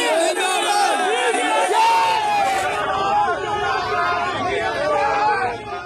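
A loud crowd at a Pakistan Muslim League-N rally on Nawaz Sharif's arrival, shouting and chanting slogans for candidate Ata Tarar in rising and falling waves of massed voices, close and continuous.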